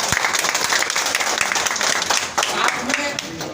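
A crowd at a public meeting about PACL investors claps enthusiastically, dense continuous applause throughout with voices mixed faintly underneath.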